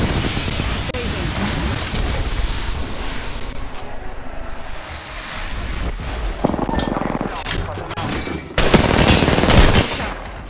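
Continuous automatic weapon fire and explosions from the video game Apex Legends, with dense rattling bursts that swell louder near the end and voices speaking over the action.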